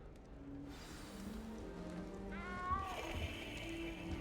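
A frightened cat in the video game Hogwarts Legacy meows, a drawn-out, wavering cry near the middle, heard close over soft game ambience.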